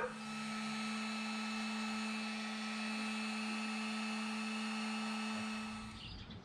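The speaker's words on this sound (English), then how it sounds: "I'm gonna heat it up with the heat gun" Heat gun blowing hot air to shrink heat shrink tubing, a steady loud whirring roar with a fixed hum that runs unbroken for six seconds and cuts off at the end.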